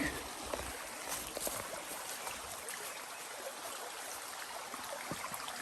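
A small creek on the North Country Trail flows with a steady broadband rush and gurgle at moderate distance, with occasional faint knocks and splashes as a hiker crosses, no voices.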